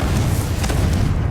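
A Confringo fire spell explodes in the Hogwarts Legacy video game as a loud, deep boom that fills the whole short moment, with no voice.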